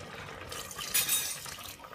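Water poured into a pressure cooker while making ridge gourd and coconut sabzi: a steady splashing, filling rush that swells in the middle and then trails off, fairly close, with no talk.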